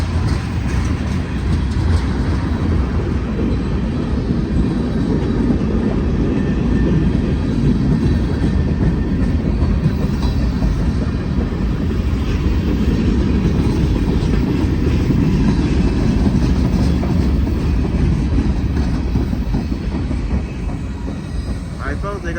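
A Union Pacific freight train rolls past in Oakland, California, a loud, sustained rumble with rhythmic clickety-clack of wheels over rail joints, steady throughout and heard close by.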